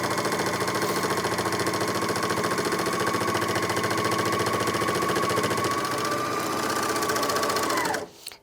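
Janome 9300DX overlocker motor stitching fabric at speed, a close, rapid mechanical whirr with a fast steady chatter that runs for about eight seconds and then winds down and stops.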